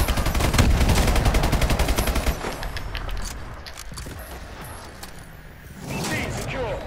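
Automatic gunfire in the video game Call of Duty: Advanced Warfare rattles in a rapid sustained burst, then trails off into scattered shots and mechanical clatter before another burst.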